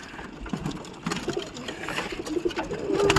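Pigeons coo softly amid a busy, rustling background, with low burbling calls repeating under general noise.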